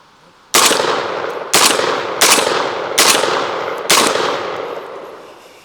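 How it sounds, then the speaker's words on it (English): Five loud, sharp shotgun blasts from a JTS AR-12 firing birdshot at close range, spaced roughly a second apart, each with a short echoing decay and no voices. "we're going to see what kind of devastation this birdshot round will do from this close"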